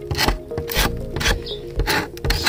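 A sharpened hooked scraper with a slight burr scrapes old paint off carved wood on an antique daybed, giving repeated rasping strokes in a steady rhythm, close and fairly loud with no talk.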